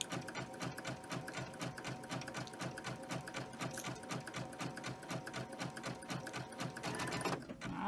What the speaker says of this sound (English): And you just start from the edge and just slowly sew it.